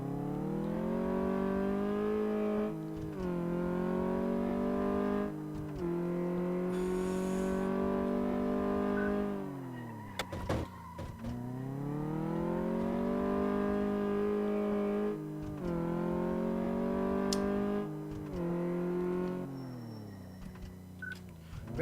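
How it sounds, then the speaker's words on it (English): A van's engine on a test drive in Car Mechanic Simulator 2014, revving up through repeated gear changes with rising whine in each gear and brief drops between, steady and loud throughout. "Let's go take it for a test drive then."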